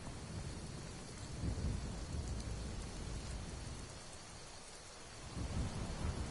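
Rain and a thunderstorm in the video game Skyrim: a constant hiss of rainfall with deep thunder rolling underneath, swelling around the middle and again near the end, with no talking.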